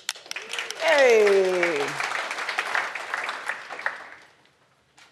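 Scattered clapping from an audience at a London business keynote, joined by a loud shout and lingering under the applause before it fades out over a few seconds.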